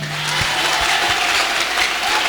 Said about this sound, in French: je veux que vous acclamez Dieu